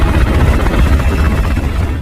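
A helicopter in a film scene gives a loud, continuous thudding rotor drone with heavy low rumble throughout.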